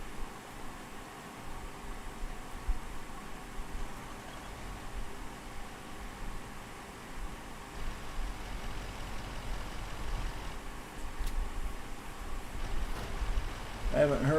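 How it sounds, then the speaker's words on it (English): A pickup truck engine in the farming game Terrafarm idles with a steady, faint low rumble under broad hissing noise that holds for the whole stretch. "Oh, there we go. Here's my pickup truck."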